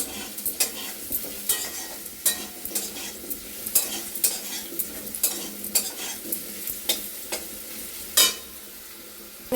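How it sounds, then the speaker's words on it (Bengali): Sweet pumpkin fries in a pan with a steady sizzle, broken by repeated scraping stirs of a utensil at an uneven rhythm, close by with no voices. "আমার মিষ্টি কুমড়োটা ভাজা হয়ে গেছে।"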